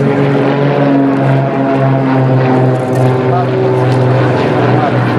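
Propeller aircraft of an acrobatic team perform overhead at an air show in Kraków, Poland, their engines droning loudly and steadily with a strong low hum throughout, blended with the hiss of an open-air crowd.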